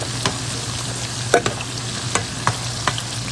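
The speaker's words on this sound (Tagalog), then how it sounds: "Bawang sibuyas luya para sa salsyado" Garlic, onion and ginger sautéing in a pan for a Filipino bulalo dish, a steady low sizzle broken by a few sharp scraping stirs spaced through the clip, with no talk.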